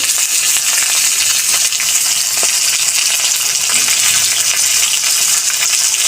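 Spices with turmeric, salt and chili powder frying in hot oil for an okra and eggplant dish, a loud, close, continuous sizzling hiss with occasional light crackles, no voices.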